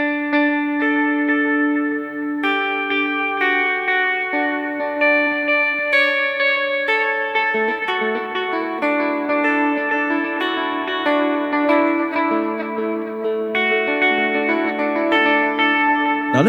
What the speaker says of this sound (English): Turn on trail so that if your sound doesn't just cut off, you're going to let the delay repeats travel on.